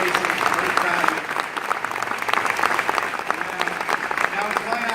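A crowd at a Westbury Village grant announcement applauds the New York governor, sustained clapping from many hands filling the room, dense and continuous, with voices mixed in.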